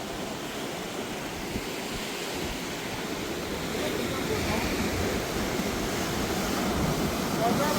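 Sea waves wash onto a beach on Ross Island in the Andaman Islands, near the lighthouse point. The surf is a steady, broad rushing roar with some wind buffeting, swelling louder toward the end.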